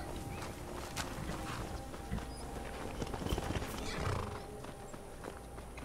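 Horse hooves clip-clop with a snorting whinny in the video game Skyrim, moderately faint and irregular over a soft game ambience.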